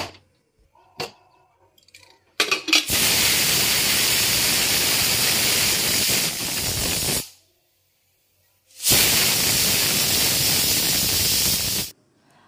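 A pressure cooker boiling potatoes releases two long, loud bursts of hissing steam, each lasting several seconds and separated by a short silence, with a few faint clicks before the first burst.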